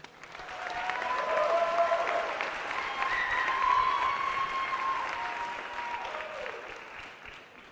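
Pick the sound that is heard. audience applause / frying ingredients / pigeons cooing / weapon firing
audience applause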